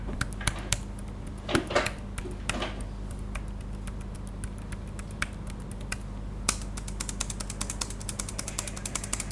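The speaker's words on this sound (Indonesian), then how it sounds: "Kalau untuk mengetik lebih kalem suaranya seperti ini." Soft, muted clicks from a Logitech K380 wireless Bluetooth keyboard being typed on, quiet key taps in an irregular stream over a low steady hum, growing a little busier toward the end.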